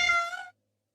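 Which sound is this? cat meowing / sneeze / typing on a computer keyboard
cat meowing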